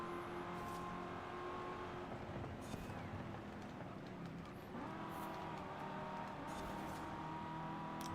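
A Chevrolet Camaro engine in Forza Horizon 5 drones and revs steadily at low level, with shifting pitch as the car accelerates and eases off.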